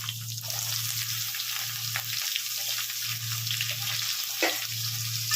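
Potatoes and green chillies, with pointed gourd, frying in a pan give a soft, steady sizzle with a low hum behind it and a single clink partway through.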